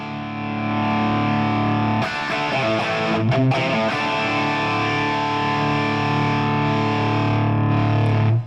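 Heavily distorted electric guitar through an overdriven Fractal amplifier, sustained chords with a brief flurry of notes in the middle, loud and close.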